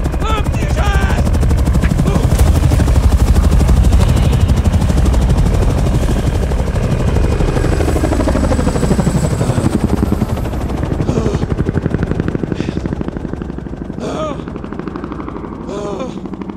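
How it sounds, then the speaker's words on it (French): A military helicopter comes in to land in the middle of nowhere, its rotor thudding as a loud, continuous, dense roar that slowly fades, with brief crackling bursts near the end. "Cette connerie d'hélico atterrit."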